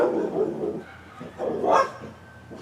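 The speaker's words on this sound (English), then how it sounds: "That's our dog Chloe there." A pet dog named Chloe barks in the background, a few short yips and barks spread across the moment, moderately faint and somewhat distant, with a spoken word heard briefly.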